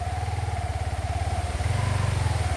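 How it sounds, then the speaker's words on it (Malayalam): A motorbike ridden through water chugs nearby with a steady low throbbing engine note that swells slightly toward the end, close and fairly loud, with no talking. "അതാ ഏട്ടന് ബൈക്കൊക്കെ ആയിട്ട് വെള്ളത്തിലൂടെ വരുന്നുണ്ട്."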